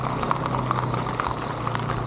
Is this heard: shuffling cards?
no